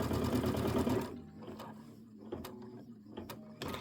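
A sewing machine stitches a placement line on quilt batting for a quilted border, running fast for about a second, then ticking and clunking through slower, intermittent stitches close by.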